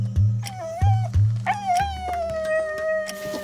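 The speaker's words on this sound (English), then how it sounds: "hears a dog crying nearby" A dog nearby cries and howls, with a few short whimpering yelps followed by long wavering howls, loud and close, with no speech.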